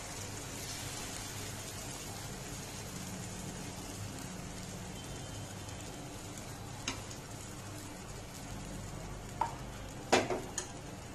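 A batter of egg, flour and salt cooks in butter in a pan with a quiet, even sizzle over several seconds, then a few sharper knocks and scrapes of a utensil near the end.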